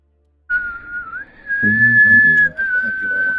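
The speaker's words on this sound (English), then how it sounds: "What are you whistling?" A person whistles a sustained, wavering melody, clear and close, with a low murmur of another voice briefly underneath.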